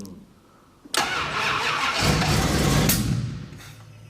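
A carbureted engine in a Fury car cranks and catches after a second, roaring up loudly and close, running rough for about two seconds, then fading as it falters and dies.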